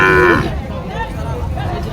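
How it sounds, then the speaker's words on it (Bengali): A Sahiwal cow at a cattle market in Joypurhat gives one loud, close moo at the start, followed by a low murmur of market noise. "আমরা এই পাশে দেখতেছি একসঙ্গে দুইটি গরু"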